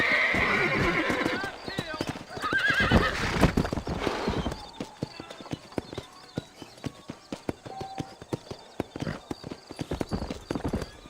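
Hooves clip-clop in a quick, steady rhythm in the video game Red Dead Redemption, with a horse whinnying near the start and voices briefly speaking over it.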